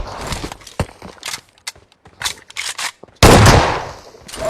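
A shotgun fires one loud, sharp blast that rings off slowly, following a scatter of scattered knocks and thumps.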